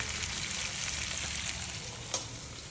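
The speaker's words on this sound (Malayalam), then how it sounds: "പിന്നെ എല്ലാം വറക്കാനും വെച്ചു വറുത്തോണ്ടിരിക്കുകയാണ് കണ്ടോ" Mixed fish, sardine, mackerel and small fish, frying in a pan: a dense, steady sizzle and crackle, close and even throughout, with one brief sharper pop.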